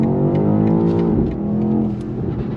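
A 2023 BMW XM luxury performance SUV pulling hard on throttle, its engine rising loudly through the revs, a gear change near the middle, then droning on close and steady.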